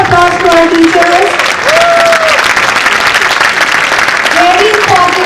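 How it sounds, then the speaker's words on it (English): Loud, close applause from a crowd at a school annual day celebration honouring teachers, continuous and dense clapping with raised voices and cheering mixed in throughout. "A big round of applause to our teachers."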